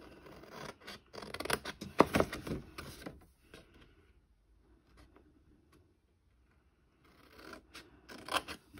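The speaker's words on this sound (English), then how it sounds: "I'm going to get my paper snips out now to do some snipping" Paper snips trim scored card for a Valentine gift box, giving a quick run of close crisp snips for about three seconds, then near silence, then a few more cuts at the end.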